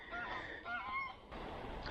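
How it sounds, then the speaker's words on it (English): Geese honk along a UK river at a trout and grayling fly-fishing spot, a faint, somewhat distant chorus of nasal calls running continuously through the short stretch. "Noisy geese."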